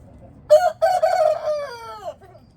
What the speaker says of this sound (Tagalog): tilaok sila ng tilaok, yung mga rooster, mga nagtitilaok